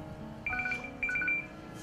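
A telephone rings with two bursts of electronic ring tones, close and clear over a low room hum, with no one speaking.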